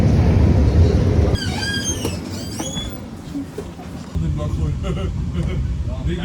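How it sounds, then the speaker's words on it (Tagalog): A train passes close by at a station in Groningen, Netherlands, its loud rumble and clatter of wheels joined by brief high squeals, while people talk over it. "Ayun yung train."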